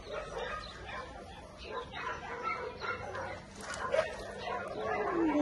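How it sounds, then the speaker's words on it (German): A young female dog teething gives a few small barks and whimpers amid a noisy indoor background, with people talking nearby. "Eine ganz, ganz süße Hündin."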